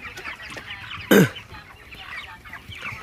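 Young broiler chickens about 25 days old cluck softly against a faint background, broken by one brief loud squawk near the middle.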